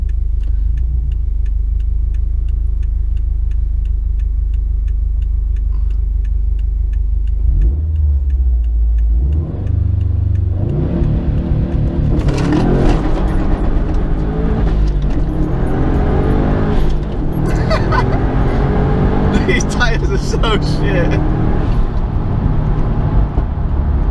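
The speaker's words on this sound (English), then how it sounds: "It just spins up all four tyres." A car does a launch-control start up a steep hill with traction control off, all four tyres spinning: a loud idle rumble gives way to a hard, rising rev with a roaring, wavering engine note over many seconds.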